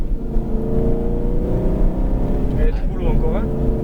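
Aston Martin Vantage lapping a race circuit, its engine a steady loud drone that rises as the car accelerates, with people talking over it throughout.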